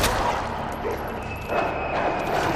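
Zombie dogs in the Resident Evil 2 Remake video game bark and yelp in a dense, continuous stretch over noisy game audio, loud and close.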